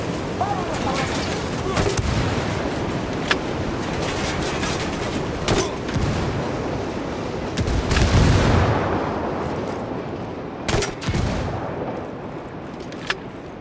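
An artillery barrage pounds down in Ghost Recon Wildlands, with repeated heavy booms and sharp cracks scattered over a constant roar of battle, one blast swelling louder midway, and voices are heard now and then.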